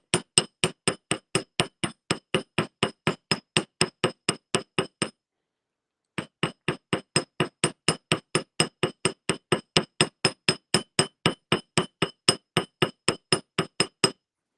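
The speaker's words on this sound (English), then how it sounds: "if you get a heavier hammer, you can move the metal a lot quicker" Rapid, even hammer blows strike metal wire to texture and shape the curves of a squiggle necklace, a long run of sharp ringing taps, a brief pause, then a second steady run, close and loud with no talking.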